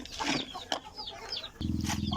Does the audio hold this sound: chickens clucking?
yes